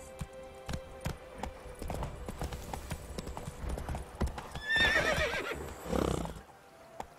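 Roach, the horse in The Witcher 3, gallops with quick, steady hoofbeats on hard ground and lets out a loud whinny partway through before the hooves slow and fade.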